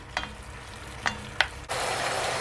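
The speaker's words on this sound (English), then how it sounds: "Just gonna leave it, guys, to saute for at least 4 minutes" Oxtail sauteing uncovered in a pot for Jamaican oxtail: a few sharp clinks and taps, then a steady close sizzle that rises and holds.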